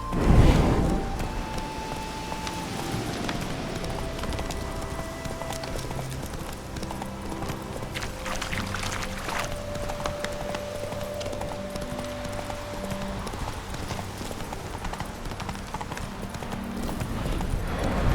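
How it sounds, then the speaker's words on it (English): Video game horse hooves clip-clop steadily at close range over a low ambient background, with a brief whinny-like sound early on as the horse is spooked, in The Witcher 3: Hearts of Stone. "Spooking my horse."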